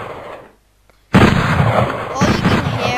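Gunfire and explosions in a Russian army shooter game: after a brief near-silent gap a sudden loud blast opens into a dense, continuous burst of shots and booms, with another surge near the end.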